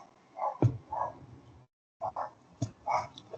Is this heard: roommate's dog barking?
yes